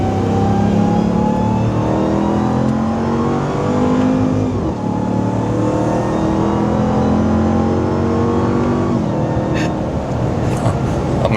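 A Ram TRX pickup with 702 horsepower accelerates hard in TRX drive mode, its engine roaring loudly and climbing steadily in pitch through the gears, heard from inside the cabin.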